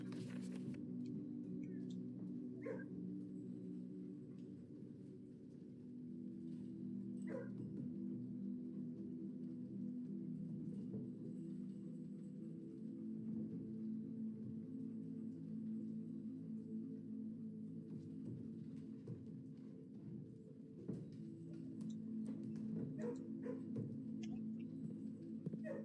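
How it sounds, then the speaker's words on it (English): Dogs in a kennel in the video game Blue Prince whimper and yip faintly over a low steady hum, with a few short bark-like bursts scattered through. "Oh no, doggies."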